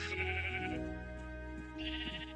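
Repeated sheep bleats from a video game, two loud drawn-out calls with a pause between them, set against steady game background music.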